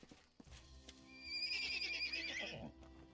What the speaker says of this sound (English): A pair of scared ponies stands before you. They don't run away, but they snort loudly and neigh as you approach.